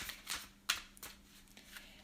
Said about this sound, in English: I'm just going to shuffle a little bit more. I know you guys hear it going.